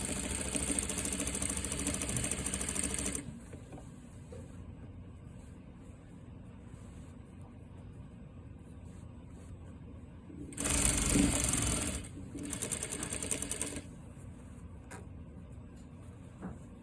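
A sewing machine stitches a neckline binding in two loud, steady bursts, the first about three seconds and the second shorter after a quiet stretch while the stitching is reversed, with softer handling sounds in between.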